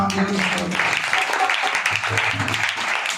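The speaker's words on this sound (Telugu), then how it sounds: "చప్పట్లు కొట్టండి" Church congregation at a memorial service clapping together, a dense patter of applause mixed with voices and a talking speaker, moderately loud throughout.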